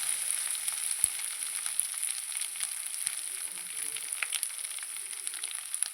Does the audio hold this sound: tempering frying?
yes